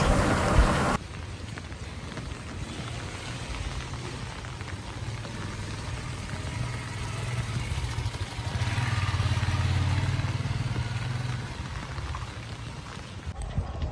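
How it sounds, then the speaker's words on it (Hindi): Steady rain falls on a street on a cold morning, a constant broadband hiss of drops on surfaces with a low rumble underneath that swells for a few seconds in the middle, continuing without any voices. "बारिश हो रही है"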